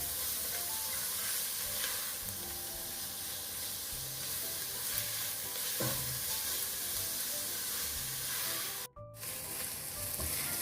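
Carrots sautéing and being stirred in a pan, a continuous soft sizzle with occasional spoon scrapes, moderately quiet and steady without talk.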